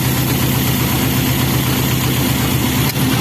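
A Toyota 4K engine idles roughly and shakes, a steady low mechanical drone with uneven pulsing throughout, loud and close, with no talking.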